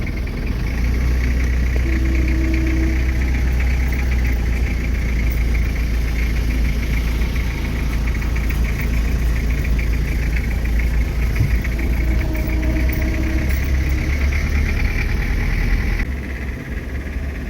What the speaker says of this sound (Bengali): এই যে গাড়ি বেগে যাচ্ছে আলহামদুলিল্লাহ